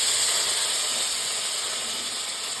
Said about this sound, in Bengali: তারপর কেটে রাখা সমস্ত সবজিগুলোকে আমি ভেজে নেবো